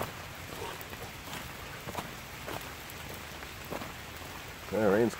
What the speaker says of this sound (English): Yeah, rain's coming down good.